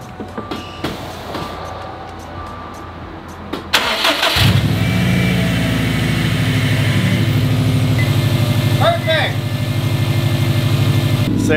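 A Subaru engine, just fitted with new spark plugs, cranks and starts after a few clicks and handling noises, then settles into a steady, rumbling idle close by, with a faint chirp near the end.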